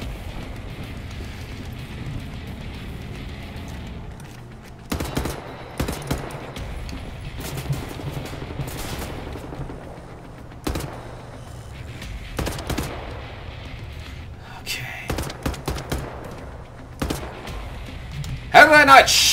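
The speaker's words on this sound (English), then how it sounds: "back to the assault rifles" Assault rifle fire in the shooter Wolfenstein: The New Order, scattered short bursts and single shots spread over a steady game background hum, with someone talking between them.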